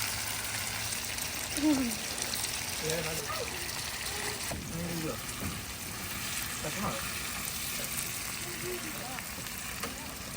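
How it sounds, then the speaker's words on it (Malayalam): Fish, Spanish mackerel, shallow-fries in a pan with a steady, close hiss and crackle of hot oil throughout, while a person talks over the sizzling. "ഒരു ഷാലോ ഫ്രൈ ആണ് നമ്മൾ ചെയ്യുന്നത്"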